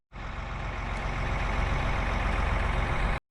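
A tractor engine runs steadily at close range, a loud continuous diesel-like rumble with rapid low firing pulses that holds constant for about three seconds, no voices.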